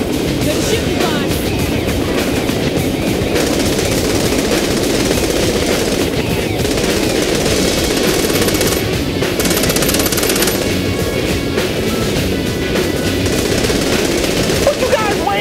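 Sustained, loud machine gun fire rattles without pause in a Saints Row: The Third mission, dense bursts mixed with engine noise, and a voice speaks briefly over it.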